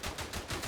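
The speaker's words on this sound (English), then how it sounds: "That's definitely a player armed with a Lewis gun." Sustained automatic fire from a Lewis gun in the World War I game Verdun, quick loud shots in an unbroken burst with the trigger held down.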